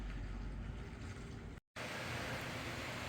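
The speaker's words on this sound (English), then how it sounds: "it's super windy out there today" Strong wind blowing outdoors beside a garage, a loud steady roaring buffet across the mic with one brief dropout in the middle.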